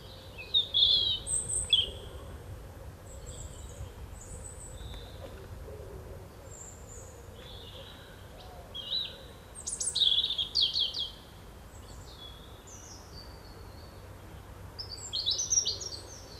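Great tit calls and song in a garden setting: bright chirps and short whistled phrases come in bursts near the start, middle and end, moderately close over a quiet background with no talking.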